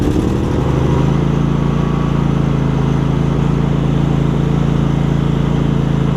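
A Husqvarna YTH2348 lawn tractor engine runs steadily and loudly close by, a constant drone with a low rhythmic throb starting the clip, and no one speaks.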